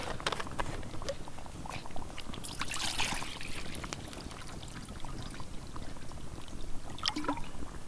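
Water poured into a pot at a rainy overnight bushcraft camp for cooking noodles, a continuous splashing trickle over about eight seconds with a few sharp clinks near the start and end.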